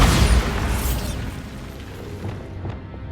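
Bombarda spell explosion in Hogwarts Legacy: a loud, close boom bursts at the start, then trails off into a rumbling, crackling decay of scattered debris over about three seconds.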